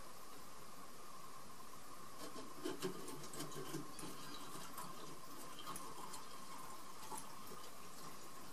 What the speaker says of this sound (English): then filling the balloon with water